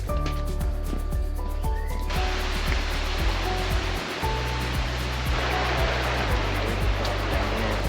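Rushing river water at a stream crossing on the Kalalau Trail on Kauai, Hawaii, a steady broadband roar heard close and continuous throughout, with a few footstep-like knocks near the start.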